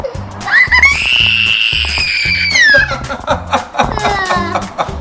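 A young child screams in a long, loud sustained shriek lasting a couple of seconds, followed by shorter excited cries, over a steady low rhythmic thumping background.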